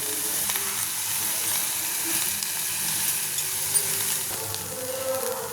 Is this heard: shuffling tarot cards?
no